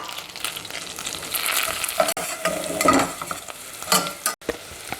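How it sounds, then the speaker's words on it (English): Onions, garlic and herbs sauté in a pan for chicken liver pâté, making a lively close sizzle broken by repeated scraping stirs and a few sharp utensil knocks. "We're going to add the onions, garlic, and herbs and saute it until the onion is clear."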